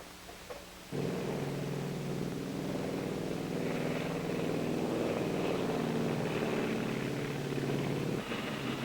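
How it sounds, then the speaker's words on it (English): Northwest airliner engines run up for a final test before takeoff, a loud steady droning roar with a tonal hum that starts abruptly and holds evenly for about seven seconds before easing off. "The engines are given a final test."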